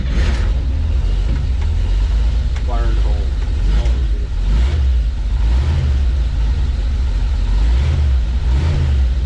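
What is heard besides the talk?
1956 Dodge Power Wagon engine starting and revving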